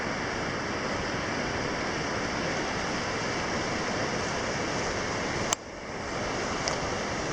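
Pigeon River water rushing steadily along the U.S.–Canada border in Minnesota's North Shore in April, a constant broad roar with no voices, a brief sharp knock near the end.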